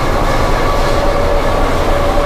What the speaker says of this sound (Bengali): ট্রেন দিয়ে দিয়েছে, হাওড়া দেরাদুন স্পেশাল ট্রেন।